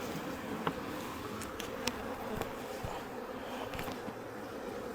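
Honey bees buzz at a hive as a queen is released, a steady close droning hum with a few louder passes of individual bees, and no voices.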